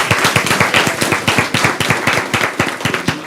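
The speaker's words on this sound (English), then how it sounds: "Let's give them a round of applause." A small group claps at a city council meeting after the names of honored young people are read out, a close, loud burst of rhythmic, evenly spaced hand claps that continues for several seconds.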